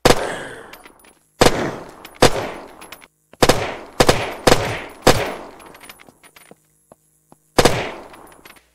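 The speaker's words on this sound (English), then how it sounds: "But the way that they're changed is now they have a two-shot burst." Golden gun in the Unturned video game firing in two-shot bursts, sharp loud reports coming in quick pairs separated by short pauses, with a ringing tail after each burst and no talking.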